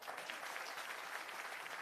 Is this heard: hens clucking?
no